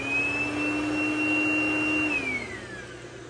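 Refurbished Dyson DC01 vacuum cleaner running with a steady whine and motor drone, close and alone, the pitch dropping as it starts to wind down near the end.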